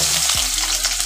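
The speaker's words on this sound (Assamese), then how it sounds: "এতিয়া মই ইয়াতে দি দিম এই আলুখিনি" Potatoes hitting hot oil with fenugreek seeds for a Malabar spinach dish, a loud, close, steady sizzle and crackle through the whole second, with no talking.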